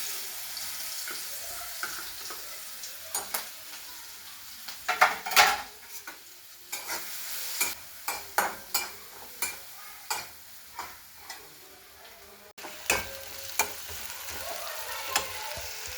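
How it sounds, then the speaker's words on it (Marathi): Garlic and chili paste sautéing in a pan for a Maharashtrian brinjal curry, with a steady sizzle and repeated sharp scrapes and clacks of a spoon stirring against the pan, close and with no talking. "या लसूण मिरचीचं वाटण आता ते मी परतून घेते."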